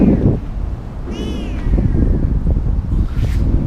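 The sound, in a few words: cat meowing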